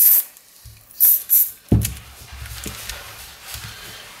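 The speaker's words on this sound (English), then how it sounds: "It's just like a silicone hardware spray." Several short, sharp hisses of a silicone lubricant spray burst close by on a 4x4 puzzle cube, followed by a knock and faint clicking handling sounds.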